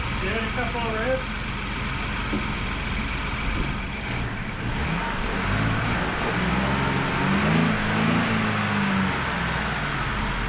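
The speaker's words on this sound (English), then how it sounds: "Give it a couple of revs." A Ford Bronco with a Mishimoto cold air intake idles close by and gets a couple of short revs that swell and fall back, with people talking over the engine.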